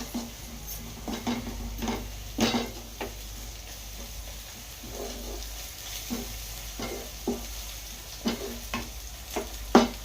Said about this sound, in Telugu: అల్లం పచ్చివాసన పోయేంత వరకు కొంచెం నూనెలో ఇలా వేగనివ్వాలి